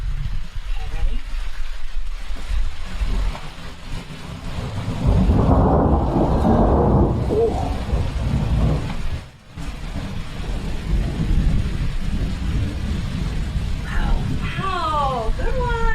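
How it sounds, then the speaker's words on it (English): Steady rain falls in California while thunder rumbles loud and heavy, swelling midway through, dropping briefly, then carrying on, with voices talking over the storm. "a little sound effects of real California rain"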